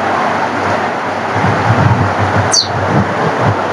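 Rain pours down steadily outside a Bengali home on a rainy day, watering potted plants, a constant broadband wash with a short bright chirp partway through and no voices.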